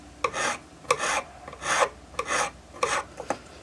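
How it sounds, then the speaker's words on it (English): A half-round ring file scrubs across a solder join on a metal bangle: about five distinct rasping strokes in a steady back-and-forth rhythm, close and clear with brief gaps between them. "On the inside, I'm using my half-round ring file, and I'm just scrubbing it across the join as I push."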